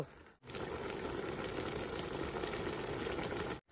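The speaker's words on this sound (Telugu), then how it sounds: "మన కూర కూడా మంచిగా అయితే ముగులుతుంది" Village-style country chicken curry bubbling in a pot, a steady broad simmering hiss with dense popping and gurgling that runs unbroken for several seconds, fairly close and alone.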